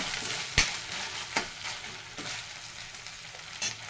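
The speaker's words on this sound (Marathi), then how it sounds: "बारीक कट केलेला टोमॅटो टोमॅटो टाकून घेते मस्त अशी येते आपल्या भाजीला" Chopped tomatoes frying in a pan as part of a festive Gudi Padwa thali, giving a soft, steady sizzle with a few sharp clinks and stirring scrapes at intervals.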